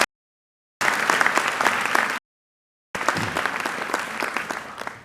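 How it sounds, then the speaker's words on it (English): A school audience applauds its college counselors at a senior class night. Two bursts of dense, sustained clapping come from many hands, separated by cut-off silences. "Would you join me in giving them a round of applause?"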